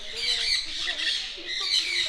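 A large bird at Yercaud, Tamil Nadu, squawks loudly and harshly, its raucous calls running almost without pause, close by.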